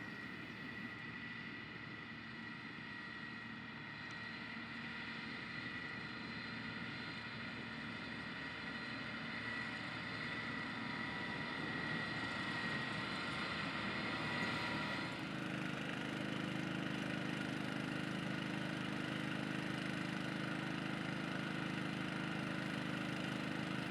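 A John Deere 8345 RT tractor with 1,000-gallon fast track tanks idles with a steady, even engine drone while the tanks are filled with nitrogen fertilizer. The tone shifts slightly partway through, and no one speaks.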